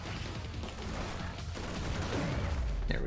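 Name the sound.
gun firing in the video game Scourgebringer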